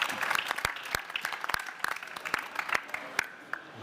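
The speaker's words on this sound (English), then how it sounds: "let's give them a round of applause" Applause at the Robothon robotics award ceremony: a moderately loud run of sharp, scattered hand claps that overlap unevenly, with faint voices murmuring underneath.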